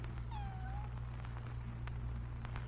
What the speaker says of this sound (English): What was that? Is that a cat?